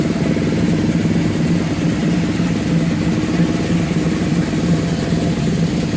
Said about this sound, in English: That's the Nova revving up here.